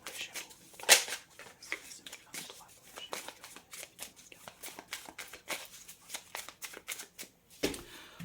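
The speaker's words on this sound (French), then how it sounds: "Je vais sortir une carte du tarot, une carte par mois, de janvier à juin." Tarot cards shuffled by hand at close range, giving a run of quick papery riffles and flicks with a sharper snap near the start, steady throughout.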